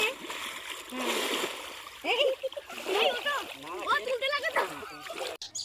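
Two people ducking under and splashing together in a river, with churning water sloshes close by while voices talk and call out over the splashing.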